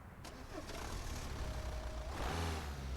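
An Alfa Romeo Giulia engine starting in the video game Euro Truck Simulator 2, a faint click followed by a rising mid-pitched crank that settles into a steady idle, quiet throughout.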